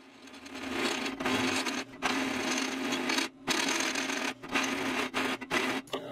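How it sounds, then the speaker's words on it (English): A step drill bit bores holes in AR500 steel plate, a steady loud grinding whine that runs in long stretches broken by several brief pauses as the drill stops and restarts. "I drilled the first couple of holes with the step drill bit, enlarging the hole to 1⅛ inch diameter."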